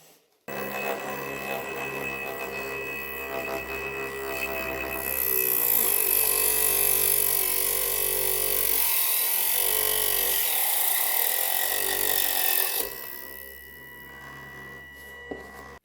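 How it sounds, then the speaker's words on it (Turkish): A homemade automatic cutting machine runs and cuts through thin cardboard, its motor whining steadily throughout, with a brighter, hissing cut from about five to thirteen seconds before it winds down. "Şöyle bir karton kesmeyi deneyeceğiz."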